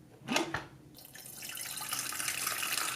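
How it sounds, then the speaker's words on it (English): Water is poured from an Aroma Awk-165M 1.7 L electric kettle into a sink. A few splashy clunks come first, then a steady, close rush of flowing water builds and holds. "I'll discard this water and boil fresh water for tea."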